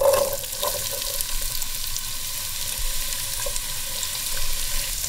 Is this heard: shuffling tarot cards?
no